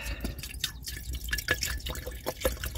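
Water drips steadily into a pot being filled for a gas stove at a car campsite, giving a quick run of small, close plinks and drops with no talk.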